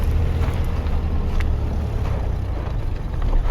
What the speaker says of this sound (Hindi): कैबिन नॉइस है गाड़ी के अंदर